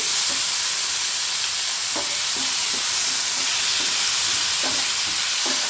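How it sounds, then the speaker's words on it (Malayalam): Tomato sautéing in oil in a pan for a chutney, a steady dense sizzle and crackle throughout with occasional soft stirring scrapes, close and continuous. "തക്കാളി ഒന്ന് നന്നായിട്ട് വഴന്ന് വരട്ടെ"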